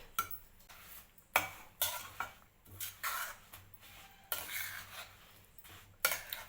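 A spoon scrapes and stirs roasted sesame seeds through a thick jaggery mixture in a pan, giving repeated bursts of gritty scraping with short pauses between strokes.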